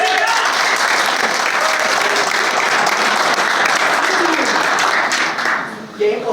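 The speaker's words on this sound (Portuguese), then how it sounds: "uma salva de palmas para você" Audience applause after a talk on personal marketing and public speaking, loud and dense clapping from a full room that carries on steadily before dropping off sharply near the end.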